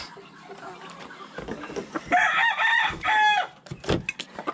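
A large fighting cock that has won several matches crows loudly and close by, one long strained call building in the middle of the clip, with some scratchy clucks and rustling before and after.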